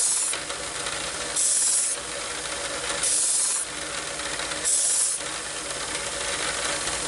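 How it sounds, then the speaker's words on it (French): A professional sharpening machine rough-grinding a knife edge gives a continuous abrasive grinding rasp, close and loud, swelling into brighter, harsher passes about every one and a half seconds. "donc là on commence, donc là en fait on dégrossit le travail, on prépare le taillant en fait à recevoir le fil"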